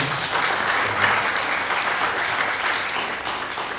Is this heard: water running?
no